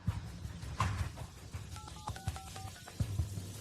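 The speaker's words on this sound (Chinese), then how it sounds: "你当着所有人的面打电话给银行查验这张卡的余额" A telephone keypad sounds a quick run of about seven dialing tones while a call to a bank is placed, each beep short and distinct over a low background hum.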